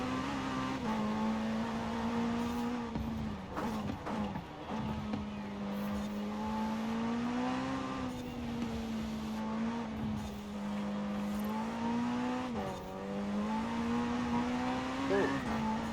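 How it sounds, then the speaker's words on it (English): A sustained race-car engine note from the Automobili Turismo e Sport GT in Forza Horizon 4, holding a steady drone with brief dips around shifts and revs, loud and close, with someone talking over it. "Short shifted to third there to try to keep it from spinning up the tires on me"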